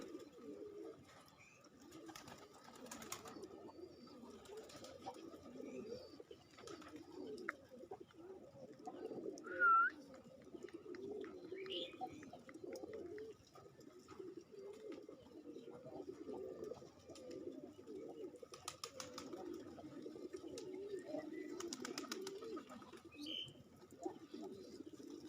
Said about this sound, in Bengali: তবে এখানে কি কি জাতের কবুতর আছে আমি এতটা কিছু নাম জানি না